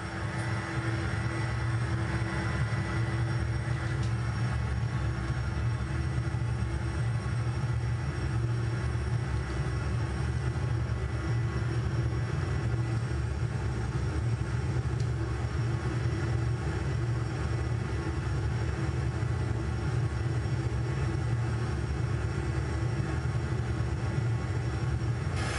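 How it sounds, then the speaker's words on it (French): Flight simulator aircraft engine throttling up for takeoff in a video game, a steady loud droning rumble that holds constant throughout with no speech. "on met les gaz et on décolle"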